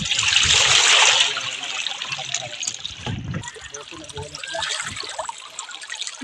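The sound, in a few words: water sloshing as the sunken boat is submerged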